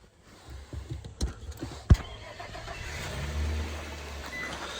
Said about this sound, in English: So let's fire the truck up real quick.